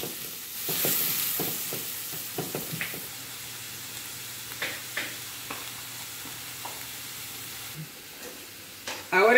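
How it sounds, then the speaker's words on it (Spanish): Half an onion, finely chopped, fries in a pan as the base for black rice, making a faint, steady sizzle dotted with occasional light clicks and spatula scrapes, close and quiet. "vamos a poner la cebolla, la mitad de una cebolla bien picadita, y la vamos a sofreír primero"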